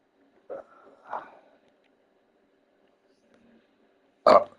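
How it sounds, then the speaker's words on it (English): A loud, abrupt burp rises near the end after a couple of short vocal bursts and a stretch of near quiet, set during an NBA 2K25 gaming session. "Oh, man, that burp."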